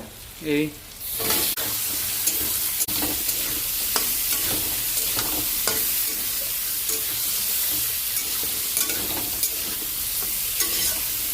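Pieces of ridge gourd drop into a hot pan for a vegetarian potato-and-ridge-gourd curry, and a steady loud sizzle follows. A spatula scrapes and stirs through it with regular clacks.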